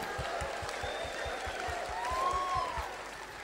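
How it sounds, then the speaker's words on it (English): A church congregation claps along in a steady rhythm, about three beats per second, with a murmur of voices and faint singing behind it. "Come on, guys, clap with me."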